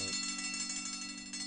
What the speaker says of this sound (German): Wäre schon mal anfangen, wenn man die Glocke irgendwie ausschalten könnte.